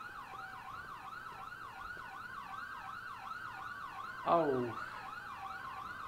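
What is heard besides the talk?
police siren in the video game GTA IV (LCPDFR mod)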